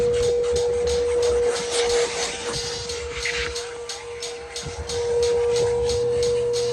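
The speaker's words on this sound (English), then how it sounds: "we're going to follow it up with a thorough vacuum." A vacuum cleaner works inside a Ford Mustang Shelby GT during a ceramic maintenance detail, a steady loud motor whine with a constant tone and shifting hiss as the nozzle moves, close and continuous with no talk.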